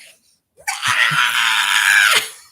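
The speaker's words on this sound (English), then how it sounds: "I had to rewind it just to hear her scream coming into this" A woman on the reality competition show The Challenge lets out a loud, sustained scream lasting about a second and a half, rising sharply after a brief near-silence and then cutting off.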